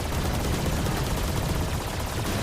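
Continuous loud machine-gun fire from the Odin in a Valorant Masters Tokyo 2023 match, a dense unbroken rattle filling the whole moment.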